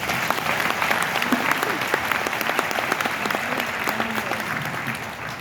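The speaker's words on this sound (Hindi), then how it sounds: "जोरदार ताली से स्वागत करते हैं।" An audience at a Bageshwar Dham Sarkar event in New Zealand gives loud welcoming applause, dense sustained clapping with faint crowd voices mixed underneath, holding steady throughout.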